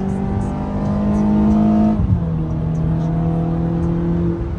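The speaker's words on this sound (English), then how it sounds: "that K&N intake has such a good induction noise paired with the Borla exhaust." A 2-liter four-cylinder car fitted with a K&N intake and Borla exhaust revs loudly and steadily, pitch climbing, then drops sharply at a gear change before pulling again at a lower, even drone.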